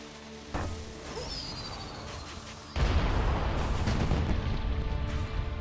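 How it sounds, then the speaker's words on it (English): Rocket launcher fire in World of Warcraft Remix, Mists of Pandaria: a whooshing launch streaks past, then a heavy, sustained rumbling blast floods in and holds loud over continuous game ambience and music. "we got another rocket launcher here"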